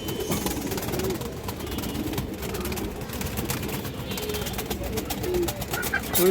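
A lively pair of silver pigeons coo softly and continuously amid a busy, noisy background, with someone talking over them now and then.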